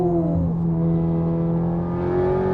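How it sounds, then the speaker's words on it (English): A modified 300 kW front-wheel-drive Honda Civic Type R driven in Cape Town, its engine holding a steady loud drone with a pitch that dips and then climbs again, heard alone from inside the car. "I hope you guys can hear that engine sound, because there's a whole bunch of things happening here."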